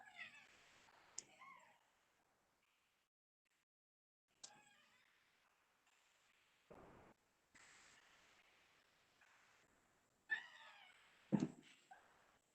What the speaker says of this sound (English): This is an alley cat. A one-eye, nasty alley cat.